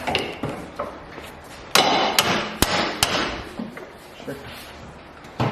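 A few sharp metallic hammer strikes on a suspension bolt during a coilover install on a Honda Civic EG ring out, spaced irregularly, close and loud, with clattering and shuffling between them.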